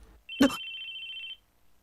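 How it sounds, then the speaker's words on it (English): A phone rings in the Chaos;Head Noah visual novel: a sharp electronic tone starts with a brief louder burst, then holds a steady pitch for about a second before cutting off, clear and alone against near silence. "It's the sound of a phone ringing, but whose?"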